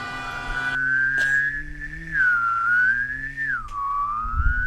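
A video game car fires its turbo boost, a sustained whistling whine that holds steady, dips and climbs in pitch over a few seconds, with no voices.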